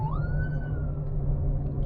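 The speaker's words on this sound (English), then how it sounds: "ambulance went by." A siren wails as an emergency vehicle passes, its tone rising then holding briefly over steady road rumble, moderately loud and fading.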